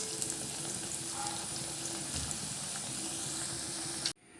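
Onion vada frying in hot oil gives a steady, close sizzle that continues evenly until it cuts off abruptly near the end, with no voices.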